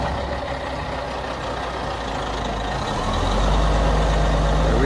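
A truck engine drones steadily as it maneuvers a 2020 single-wide manufactured home around a corner onto a lot, a low rumble swelling louder and deeper toward the end.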